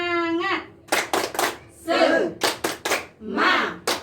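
A group of women claps in response to a teacher's call during a morning training session, with a few separate bursts of hand claps mixed with voices and cheering rather than a steady beat.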